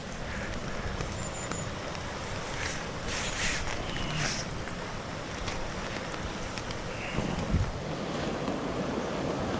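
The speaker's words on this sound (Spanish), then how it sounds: "Baja bastante agua." Heavy rushing water in a swollen ravine during rain, a dense continuous roar close to the microphone with wind buffeting, no voices.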